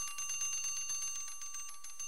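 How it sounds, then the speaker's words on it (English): An electric bell inside a glass bell jar rings with rapid, even hammer strikes, a continuous metallic trill that is fairly quiet and holds steady throughout. "Is the electric bell working properly?"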